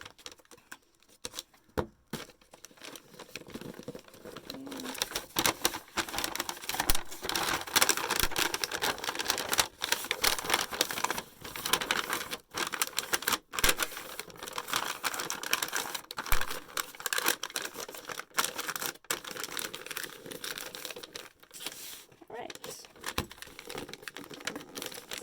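Used brown bag paper is folded and creased around a gift, with steady crinkling, rustling and soft taps running continuously for the whole stretch, close by and fairly quiet.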